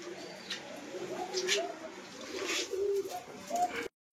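Giribaz pigeons, a Rajshahi local high-flying breed, coo in low repeated murmurs close by, with a few soft call bursts over a light background hiss.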